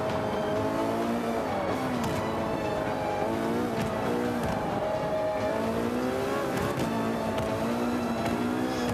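A car spinning out in Forza 5, with a loud engine holding a steady whining drone as the pitch wavers and bends through the slide, and faint tyre noise underneath, with no talk over it.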